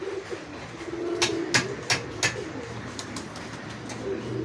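A male Kamagar pigeon, a Pakistani breed, coos in low repeated phrases close by, with several sharp clicks or wing claps breaking in over the middle of the stretch.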